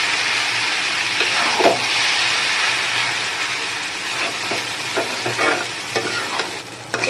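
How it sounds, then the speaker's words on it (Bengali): Noodles tossed with beaten egg fry steadily in a pan, a continuous close sizzle with occasional spatula scrapes and stirring clicks, no voices. "এবার 2 মিনিট সুন্দরভাবে এটাকে ভেজে নেব নুডলসটাকে।"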